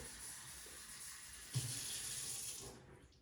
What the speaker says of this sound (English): let me get the water right out of my sink here